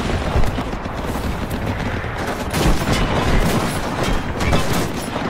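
Dense, loud gunfire aimed at a battleship's waterline in the war game Foxhole, with overlapping shots and heavy bursts rolling continuously, nearly filling the soundscape with no talk heard.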